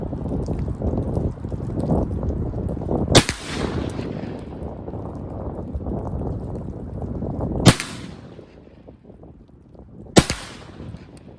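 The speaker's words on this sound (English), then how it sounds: "Let's go for the like head of the target because I don't have any hits there yet with a shotgun" A Remington 11/87 semi-automatic 12 gauge shotgun, a police trade-in, fires three loud, sharp blasts at a target outdoors. The shots come a few seconds apart and each leaves a short ringing tail, with wind noise and background rumble in between.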